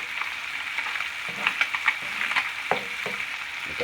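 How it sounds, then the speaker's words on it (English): Butter melts in the middle of a hot pan where fish pieces for tacos are frying, a steady close sizzle with a few spatters and light scraping, heard alone without talk. "Get that butter melted down in the middle."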